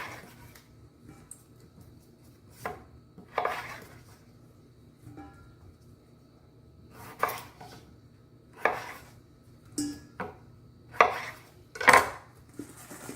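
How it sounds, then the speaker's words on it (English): A knife cuts up raw chicken on a board, with irregular chopping thuds and knocks spaced a second or two apart, growing busier near the end, heard alone with no talk. "So we're gonna cut these up."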